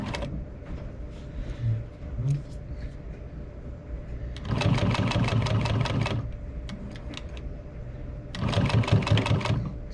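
A sewing machine runs in two bursts of steady, rapid stitching, with reverse used to adjust the stitch length. Quieter hum and handling noise fill the gaps between runs, and no one speaks.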